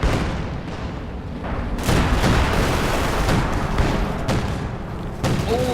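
Howitzer artillery fire in the Company of Heroes 2 strategy game lands in a rapid series of heavy booms and blasts over a dense battle din.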